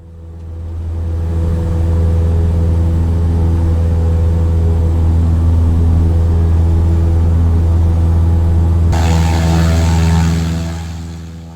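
Cessna propeller plane taking off in a flight simulator, a loud steady droning engine and propeller hum that fades in, holds at full power, gains extra brightness late, then fades out, with no talk.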